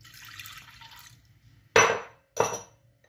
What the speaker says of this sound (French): On va commencer par mettre un demi-verre d'eau tiède, un demi-verre de lait tiède